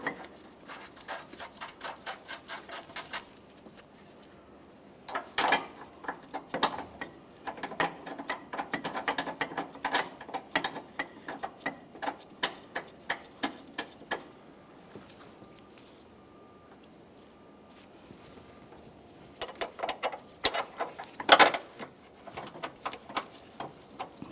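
Mounting bolts being run in with a ratchet on the transmission mount of a 2012-2015 Honda Civic 1.8L, giving fast, quiet metallic clicking in bursts with pauses, plus a few sharper clanks near the end.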